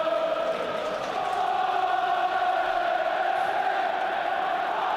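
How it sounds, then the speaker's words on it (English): A football stadium crowd roars during a Sunderland versus Aston Villa match, a loud, sustained, echoing swell of massed voices that holds steady throughout. "And the crowd's reacted. The 12th man making themselves heard."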